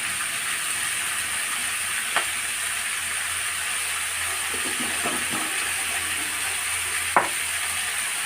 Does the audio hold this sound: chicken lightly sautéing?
yes